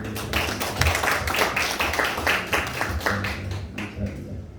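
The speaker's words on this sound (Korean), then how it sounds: "감사의 박수를 올려드리겠습니다" Congregation applause at a church district service, a loud burst of many hands clapping, dense at first and then thinning out toward the end.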